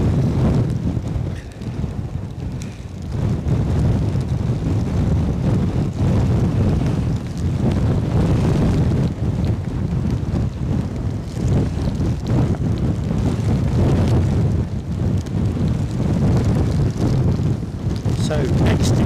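Strong gusting wind at Edinburgh airport in gusts over 50 mph buffets the microphone as a loud, continuous low roar that surges and dips throughout.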